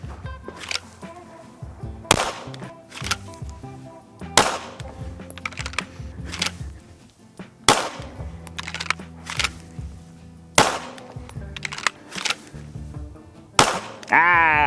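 A pistol fires during a draw-and-fire shooting drill: single sharp reports come every couple of seconds, about six in total, with quieter handling noise between them.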